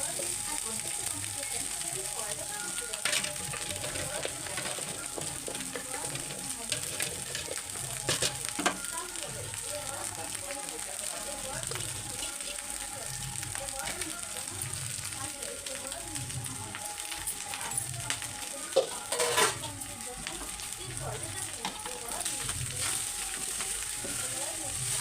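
Cooked rice frying in a hot pan for pulihora, a continuous sizzle with frequent scraping stirs of a spoon throughout, close up and steady.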